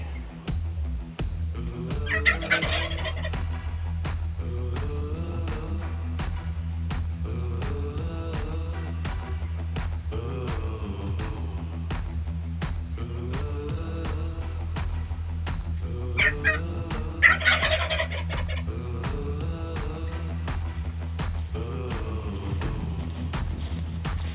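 Young wild turkey jakes gobble in the North Dakota outdoors, repeated bursts of gobbling over a steady background rumble and a regular ticking pulse, fairly near and loud.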